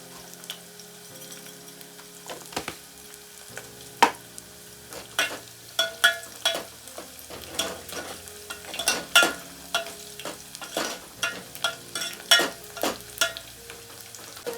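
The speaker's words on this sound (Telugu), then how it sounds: "తర్వాతకి నూనె వేసుకొని ఉల్లిగడ్డలు వేసుకున్నాను" Onions frying in oil with cumin and mustard seeds for a spicy egg curry, with steady sizzling and repeated sharp stirring scrapes of a utensil against the pan throughout, close and fairly loud with no talking.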